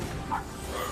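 The robot dog K-9 imitates a dog with a single brief bark-like yip over steady background noise.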